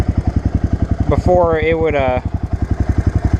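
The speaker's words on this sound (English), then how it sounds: "it says it's idling at about 660 RPMs" A Honda 300 engine idles at about 660 RPM with a steady, even low thumping pulse. A person speaks briefly over it partway through.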